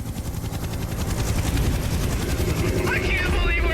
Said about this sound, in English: do you hear some helicopters?